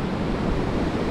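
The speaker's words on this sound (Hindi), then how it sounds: "पानी की आवाज़ तो मस्त आ रही है" Sea surf rolling in on an empty Konkan beach, a steady broadband wash of waves with no distinct breaks, close and fairly loud, with no voices over it.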